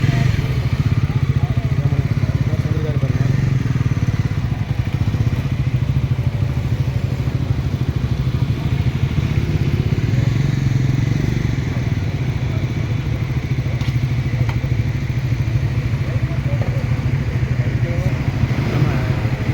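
A Bajaj NS motorcycle engine drones steadily and close for the whole stretch, with a low rumble, road noise and some rattling clatter throughout. There is no break in the sound.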